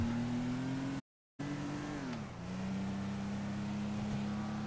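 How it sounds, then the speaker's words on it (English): Loud car engines in the GTA Online video game rev with steady droning harmonics, broken by a one-second dropout and a dip in pitch as revs fall and rise again, with no talking. "you ought to be able to sue the automobile makers for making those engines that loud."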